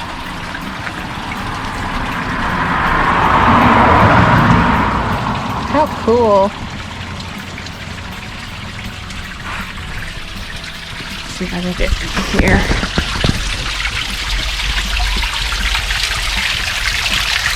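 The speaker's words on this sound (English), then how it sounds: "Water's flowing down the mountain, mixing with all the minerals of the rock." Natural spring water trickling and flowing down rock near Moab, a steady outdoor wash of running water with people talking over it and some handling noise.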